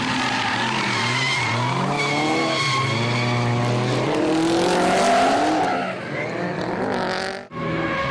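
A drift car, a Nissan S13, skids and squeals its tires while the engine roars, sliding up an embankment during a crash at a D1 event. A long continuous screech ends in a brief dip and thud.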